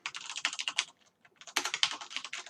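Fingers typing on a computer keyboard while coding in C#, with rapid close clacking keystrokes in two bursts separated by a brief pause, and no talk over them.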